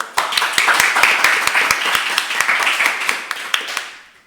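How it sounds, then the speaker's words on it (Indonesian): A small studio audience gives a short round of clapping during a health talk show, individual hand claps sharp and distinct in a quick, loosely even rhythm before trailing off. "Tepuk tangan dulu dong."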